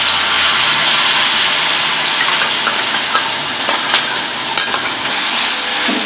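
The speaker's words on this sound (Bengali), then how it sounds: "তেল গরম হয়ে গেছে, আমি এখন পুরটা দিয়ে দেবো।" Potol dorma filling, a cooked stuffing for pointed gourd, sizzles and spatters loudly in hot oil, a dense steady crackle with scattered sharper pops and stirring scrapes throughout.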